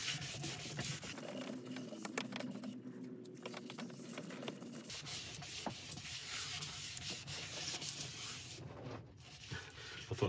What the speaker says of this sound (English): Missed a bit sanding there, but it's just the burrs